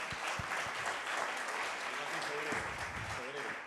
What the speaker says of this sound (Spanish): creo que Él se merece un fuerte aplauso